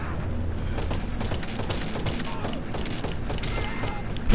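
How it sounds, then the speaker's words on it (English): Dense, continuous machine gun fire and scattered explosions from a PS4 shooter game, loud and steady throughout with no clear pauses, with a faint voice mixed in under the gunfire. "Machine gun!"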